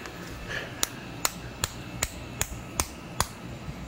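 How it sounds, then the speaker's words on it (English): Sharp hammer blows drive a skateboard bearing into a 3D-printed filament holder for a KP3S printer: seven or eight crisp, evenly spaced taps about every 0.4 seconds, close up, with no talking. "don't be afraid to hammer things"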